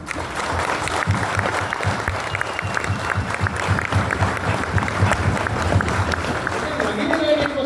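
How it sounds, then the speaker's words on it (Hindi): Applause from an audience at a talk on the future of MNT, a steady dense round of clapping filling the room for several seconds, with a few voices murmuring underneath. "तालियां।"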